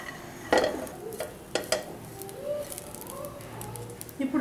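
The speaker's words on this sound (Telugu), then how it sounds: "బాండిలో అన్నం వేస్తున్నాము" Cooked rice tipped into a pan on a stove in a home kitchen, with a few clattering scrapes and knocks of a utensil against the pan and soft stirring, close by and fairly quiet.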